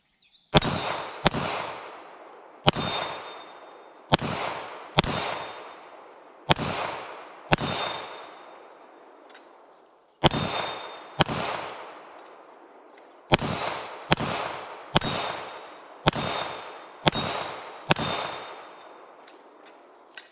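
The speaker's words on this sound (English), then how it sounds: "this Cz-75 shooting pretty good. We'll take on that big spinner" A CZ 75B Omega 9mm pistol fired at a big steel spinner target: sharp, loud shots in two quick strings separated by a short pause, with a faint ringing of steel after several hits.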